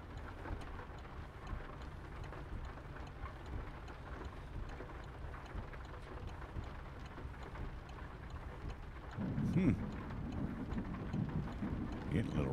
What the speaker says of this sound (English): Thunder and lightning, the whole nine yards.